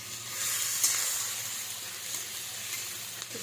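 Dried chillies and ginger frying in oil in a pan, giving a steady close hissing sizzle with faint crackles over a few seconds and no voices.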